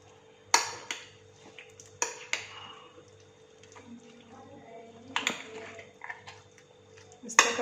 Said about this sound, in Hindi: इस तरह करके नीचे से ऊपर इसको मिक्स कर लेंगे, सारे के ऊपर इस तरह